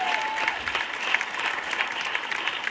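Enthusiastic applause from an audience at an anniversary celebration honoring a guru, steady dense clapping throughout, loud and close with crowd murmur underneath.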